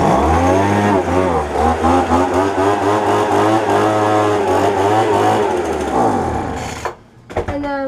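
A lawn care machine's small engine catches on a cold start after a few pulls, running loud and steady with a buzzing, sewing-machine-like drone before cutting out near the end.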